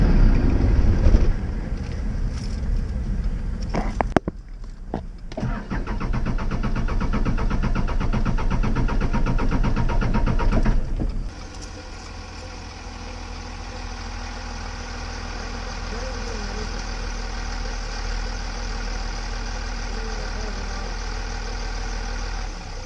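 A Ford Bronco's 4BT Cummins diesel engine, running poorly with a fuel system problem, rumbles loudly and unevenly, cuts out abruptly, then settles into a steady lower idle.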